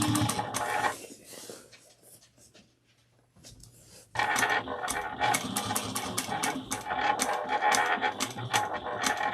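Sewing machine stitching a quilted seam from seam to seam, top stitching and back stitching: dense rapid mechanical whirring in bursts, a short pause in the middle, then steady continuous stitching, close and loud.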